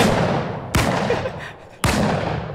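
Two sharp, loud gunshots from the zombie-shooting video game TAB Zombielator, spaced about a second apart, each with a booming tail over steady background noise.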